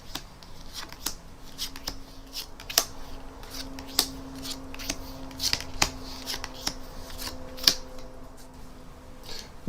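Playing cards dealt out one at a time to spectators during a magic trick, producing soft, sporadic flicks and snaps, near and fairly quiet, over a steady low hum with no talking.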